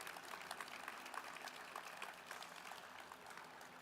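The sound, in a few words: audience applause at a transportation announcement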